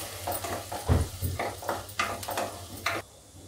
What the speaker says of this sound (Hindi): उसके बाद ऐड करेंगे प्याज, इसको गोल्डन ब्राउन होने तक भूनेंगे।